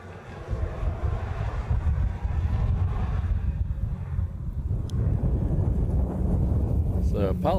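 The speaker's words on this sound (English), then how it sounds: "the wind has picked up quite a bit in the last 15 minutes or so" Strong wind buffets an outdoor microphone at a Honolulu airport plane-spotting spot, a loud continuous low rumble that masks most other sound, with a voice briefly heard near the end.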